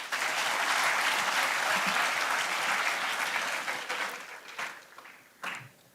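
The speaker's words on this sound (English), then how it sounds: "Can we again have a round of applause for sir?" An audience at a college inauguration event gives a full round of applause. The dense, steady clapping fills the room for several seconds, then thins into scattered final claps.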